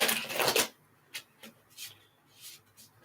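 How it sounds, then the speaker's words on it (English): Tarot cards being shuffled during a live psychic reading: a dense burst of riffling at the start, then a few soft separate card snaps and taps spaced out against near silence. "Shuffle these cards here."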